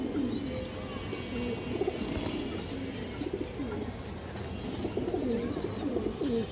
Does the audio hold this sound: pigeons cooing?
yes